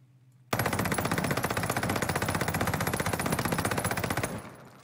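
Sustained automatic gunfire in a PC first-person shooter, a rapid, even stream of loud close shots lasting about four seconds with no pause, ending abruptly.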